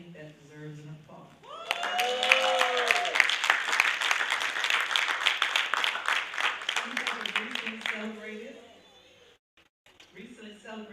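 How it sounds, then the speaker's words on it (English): An audience at an interfaith reparations summit breaks into sustained applause, a dense wash of clapping lasting several seconds before fading back into a speaker's amplified voice. "I think that deserves an applause."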